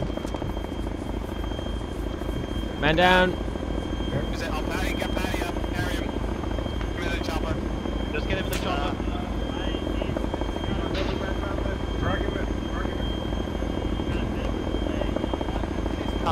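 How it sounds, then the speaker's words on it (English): Military helicopter in the combat game ArmA 3, a steady loud rotor drone running throughout while radio voices talk and shout over it. "let's pull back to the chopper"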